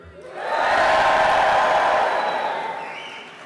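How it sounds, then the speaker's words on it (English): A graduation audience in King's Hall cheers and whoops as loudly as it can, a dense roar that swells within half a second, holds steady, then slowly fades. "I want you to cheer as loud as you can and take the roof off the King's Hall"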